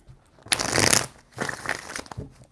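Tarot cards shuffled by hand in two quick, close papery bursts of riffling and crinkling separated by a short pause.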